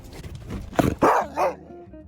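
A dog in the front seat of a car gives two or three loud close barks with a short whiny yip, inside the car.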